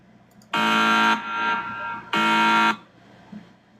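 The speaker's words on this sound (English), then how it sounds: "Sound effect. Alarm." An electronic alarm sound effect blares in two loud, harsh buzzing bursts of about half a second each, with a softer tone between them and a near-silent pause after the second.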